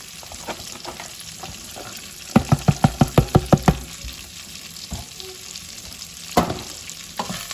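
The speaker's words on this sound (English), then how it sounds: "We'll just mix this around for a few minutes and get it all coated in the bacon fat" Thinly sliced cabbage, about 450 grams, frying in bacon fat in a pan, a loud continuous sizzle with stirring, including a quick run of about eight sharp utensil knocks against the pan.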